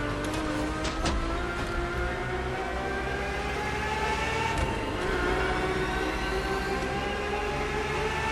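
Ferrari F50 with a naturally aspirated V12 in The Crew Motorfest, a continuous high-pitched engine drone whose layered tones climb steadily as it pulls through the revs.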